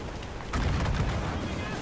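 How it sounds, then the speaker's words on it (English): Naval mortar fire from a ship in Assassin's Creed Rogue: a single heavy boom bursts in about halfway through, then a loud, sustained rumbling roar continues to the end. "Ready those mortars, Shay."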